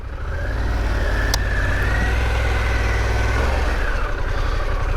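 A 2021 Harley Davidson Pan America 1250 motorcycle pulls away in first gear, a loud, close, steady engine rumble that builds quickly and holds, with no talk over it.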